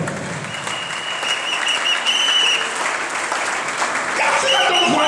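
A church congregation claps and cheers in acclaim, with dense sustained applause and a few whistles that swell toward the end, loud and close, with voices mixed in.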